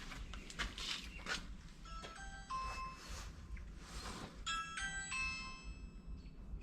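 A front doorbell chimes several times in a garage where a 1987 Toyota Supra is being worked on, the bright ding-dong tones ringing clearly over a steady low background rumble.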